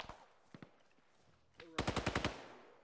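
Automatic rifle fire in the video game ARMA 3 comes as one rapid burst of about six loud shots. A few faint distant pops and some quiet radio chatter come before it.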